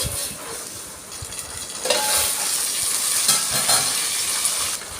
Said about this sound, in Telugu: ఉల్లిగడ్డ పచ్చిమిర్చి మంచిగా నూనెలో ఉడకాలండి